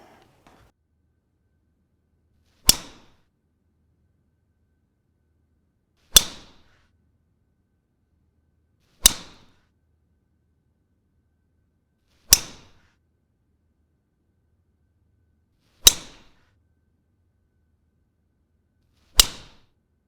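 Six sharp, crisp impacts of a Bridgestone golf driver striking balls, evenly spaced a few seconds apart with silence between each hit.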